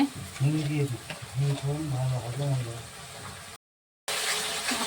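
Ground turmeric, salt, coriander, cumin and Kashmiri chilli powder fry in oil for a cauliflower dalna, a soft steady sizzle and stirring running under a person talking, then a brief gap before the sizzle returns.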